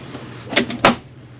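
A cruise ship cabin door on a Disney Cruise Line ship swings shut, making a short rattle followed by a firmer latching thud, close by in a quiet room, with no voices.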